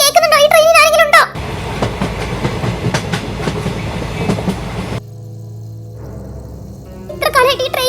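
A moving train rumbles with a rhythmic clickety-clack of wheels for several seconds, loud and close, between stretches of music and speech.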